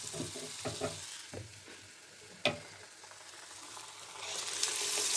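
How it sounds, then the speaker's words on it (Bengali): Besan-battered eggplant slices go into hot oil one by one, with a few clinks and a sharp tap before the frying sizzle rises and grows loud and steady toward the end. "বেগুনগুলো বেসনের গোলায় ডুবিয়ে গরম তেলে ছেড়ে দিতে হবে"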